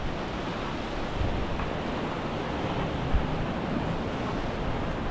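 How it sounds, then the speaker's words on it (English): Ocean waves surge against a rocky fishing spot at Little Bay, a continuous loud wash of surf and spray with a couple of slightly stronger swells, no voices. "Gotta wait for that wave."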